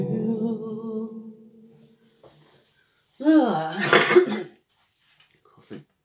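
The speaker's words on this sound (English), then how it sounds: "Coughing." Coughing fits from a singer, a burst of several harsh coughs close by after the end of a sung phrase, then quiet with one short cough-like sound.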